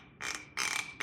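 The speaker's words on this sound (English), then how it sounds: "Gonna listen to this cork pop real quick." A cork is worked out of a bottle of Michter's Barrel Strength Rye Whiskey, giving three short, squeaky, hissing bursts in quick succession, close and fairly quiet.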